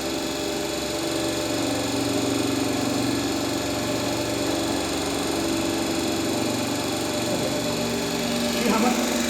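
A DC compound generator runs under load test in a lab, giving a steady, continuous mechanical hum and whine close by at constant level throughout, with a brief knock near the end.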